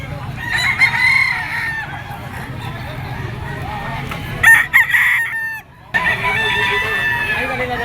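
A Golden Boy sweater gamefowl rooster crows loudly and close, with a second crow partway through, amid clucking and low background market noise.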